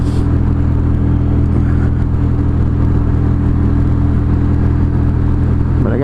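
A 998cc motorcycle engine runs continuously while riding, with a loud, steady droning rumble, close up and unbroken, and wind noise blended in under the hum.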